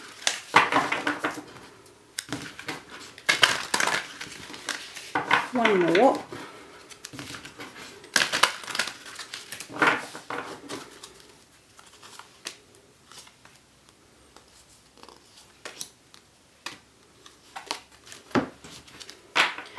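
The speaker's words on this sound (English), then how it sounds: "Just do a little bit of shuffling." A deck of tarot cards being shuffled by hand, with brief papery riffles and taps in irregular bursts, close and fairly quiet, mixed with intermittent speech.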